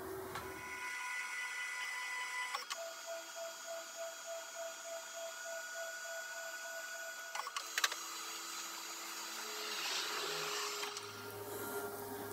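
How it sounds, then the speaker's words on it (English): A CNC machine homes its axes toward the limit switches, giving a steady motor whine with changing pitch, several sharp clicks as the switches trip, and axis moves that shift in tone near the end. "when you tell the computer to home, it will go to the farthest axis until the switches trigger"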